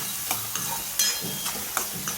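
Asafoetida, turmeric, red chilli, garam masala and coriander-cumin powder are sautéed on a gas stove for samosa filling, a close sizzle with rhythmic spatula strokes and scrapes against the pan every fraction of a second.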